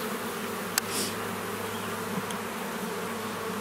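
Bees buzz softly under a steady background hum, with a couple of brief clicks; no voices.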